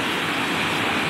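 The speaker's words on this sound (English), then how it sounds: "Got a nice little waterfall." A small waterfall at Partington Cove in Big Sur, California, splashes in a dense, steady rush of water, close and continuous for about a second with no voices.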